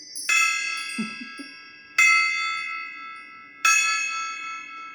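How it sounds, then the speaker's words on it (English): Chimes or a small gong struck three times at slow, even intervals, each a bright ringing strike with a long shimmering decay, clear and alone with faint rustling between the first two hits. "Can we hit the chimes? Maybe a little gong action?"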